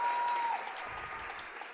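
Crowd at a Hazen at Lyndon basketball game applauds after a made basket, a steady wash of clapping that carries through the whole moment, with a brief whistle-like tone at the start.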